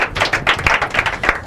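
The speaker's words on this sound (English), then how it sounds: "Are you going to clap or you're going to clap?" Brief, scattered hand claps from an audience at the Ogiame Atuwatse III inter-collegiate quiz and debate competition, a short burst of uneven clapping at close range.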